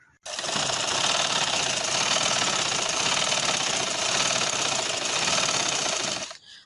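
A sewing machine runs continuously while stitching a pillow cover, a loud, steady rapid whirring chatter that starts abruptly and stops just before the end.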